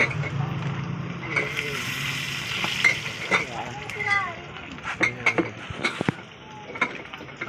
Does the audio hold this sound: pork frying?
yes